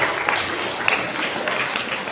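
Classroom applause for a student who answered a chemistry question, a dense wash of many small hands clapping steadily for a couple of seconds, moderately loud with faint voices mixed in.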